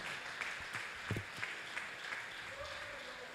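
A church congregation claps briefly in applause, a soft, scattered patter at moderate distance over a faint room murmur.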